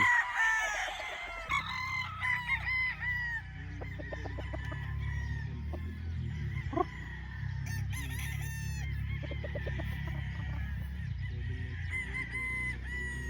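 Roosters on a gamefowl farm in Barangay Suplang, Laguna crow repeatedly over steady clucking and background noise, several birds calling close by in overlapping bursts.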